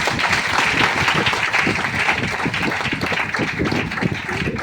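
Dense, sustained applause from a crowd, many hands clapping steadily and loudly throughout with no pauses.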